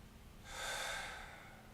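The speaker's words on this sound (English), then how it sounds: "we'll inhale for 4, we'll hold for 4, we'll exhale for 4, and then we'll hold for 4 again" A single slow breath during a paced breathing exercise, a soft airy swell lasting about a second, heard close and quiet with no speech.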